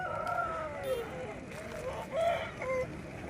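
A rooster crows amid the bustle of the Gudur chicken market, where aseel birds are sold; wavering tonal calls come through several times, close by and moderately loud over general crowd noise and some voices.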